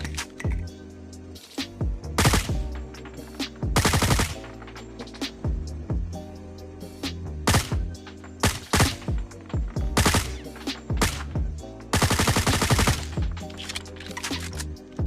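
L-CAR 9 pistol fire in COD Mobile, sharp loud shots in rapid bursts and single cracks, with a few dense sustained strings of fire between brief pauses.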